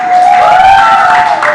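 A crowd at a pool match cheers and chants Russia in rising and falling waves, with a sustained loud tone running through it.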